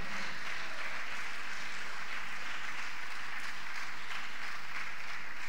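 A church congregation breaks into sustained, dense applause at a religious service, a loud wash of clapping holding steady from start to finish.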